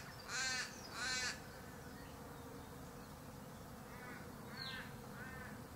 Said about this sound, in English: There's a beautiful parrot up the tree.